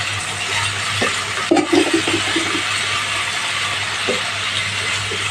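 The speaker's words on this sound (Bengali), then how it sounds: "ভালোভাবে নেড়ে চেড়ে ভেজে নিতে হবে" Sweet pumpkin bhaji with cumin frying in a pan, a steady broadband sizzle with a low hum beneath, broken by a few scraping stirs of a spatula near the middle and end.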